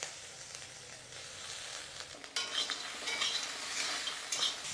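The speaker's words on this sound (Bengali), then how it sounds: "কাঁকড়া দিয়ে দিয়েছি, কাঁকড়াটা একটু ভাজা করে নেব।" Small crabs fry in oil in a pan, a steady sizzle that grows louder and crackles more halfway through, with occasional scraping stirs and no talking.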